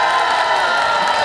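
Outdoor audience at a daytime Korean trot concert at a Gijang-gun eco-friendly farm produce promotion event, clapping and cheering in a steady, dense wash of applause with scattered whoops, loud and close throughout.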